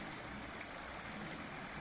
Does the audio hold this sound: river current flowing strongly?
yes